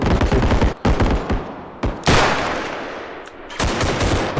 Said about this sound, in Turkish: Ulan kulağım mermiler kulağımın yanından geçiyor ya